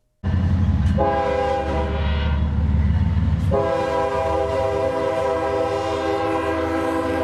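A freight train horn blares in long, loud sustained chords over the heavy rumble of rail cars rolling past close by in San Marco, Jacksonville.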